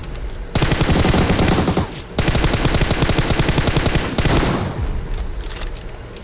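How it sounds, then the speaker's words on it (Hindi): Gunfire in PUBG Mobile played on an emulator, loud rapid automatic bursts in long sustained strings with brief gaps between them, no talk. "उस गरीब की इतनी गोलियां मारी हैं"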